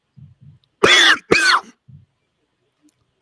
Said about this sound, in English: I had to cough out.